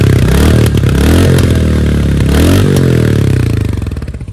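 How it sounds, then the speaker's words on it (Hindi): A Royal Enfield Hunter 350 motorcycle exhaust is revved with the throttle, a loud, close, thumping single-cylinder note rising and falling, then settling to a pulsing idle with faint popping. "अभी एग्जॉस्ट नोट सुनाते हैं कि कैसा आ रहा है इसका एग्जॉस्ट"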